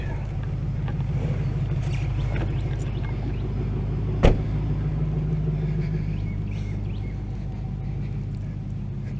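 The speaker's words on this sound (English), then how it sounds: "Listen to that Hemi." A deep, throaty Hemi V8 engine rumble idling and cruising steadily, with a brief sharp click partway through.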